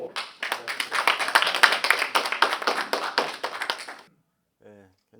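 A lecture audience claps for about four seconds, a dense burst of hand claps that stops abruptly, followed by a brief faint voice.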